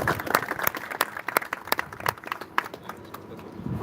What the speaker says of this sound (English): I want a big round of applause for the MVP from the zone